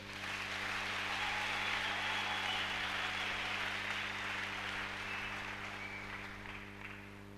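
A church congregation applauds to acclaim the Lord, producing a sustained wash of many hands clapping that swells early and then slowly fades, heard from a distance over a low steady hum, with no talking.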